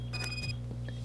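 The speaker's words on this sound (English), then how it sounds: "whenever this metal detector beeps" A metal detector in the video game Robocop Rogue City gives a short burst of bright electronic beeping, followed by a faint chirp over a low steady game hum.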